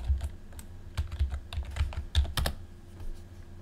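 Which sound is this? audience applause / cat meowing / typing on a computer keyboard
typing on a computer keyboard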